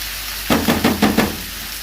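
Garlic fried on the highest heat in a pan for Egyptian pot kebab, with about five quick stirring scrapes and sizzle bursts in an even rhythm, close and fairly loud, no talking.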